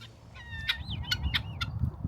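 Chickens cluck and chirp in short, scattered calls nearby, over a low rumbling background.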